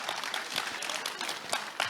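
Applause from an audience at a comedy show, moderate and steady with scattered louder claps through a short burst.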